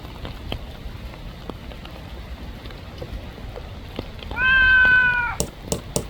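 A cat gives a single drawn-out meow, clear and fairly loud, lasting about a second, over a soft outdoor background with light ticking and dripping sounds before and after.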